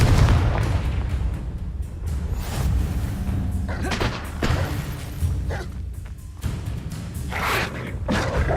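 Confringo and Stupefy spell blasts in the Hogwarts Legacy video game crash out as a continuous barrage of heavy booms and thuds, loud and close, with quick irregular impacts overlapping throughout.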